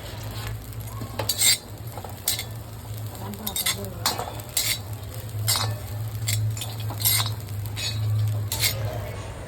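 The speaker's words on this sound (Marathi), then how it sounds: "सगळ्यात आधी जवळा थोडा भाजून घेऊया." Dried shrimp (jawla) dry-roast in a pan with a soft sizzle, while a spatula stirs and scrapes, giving repeated sharp metallic clinks and scrapes at an uneven rhythm, close by.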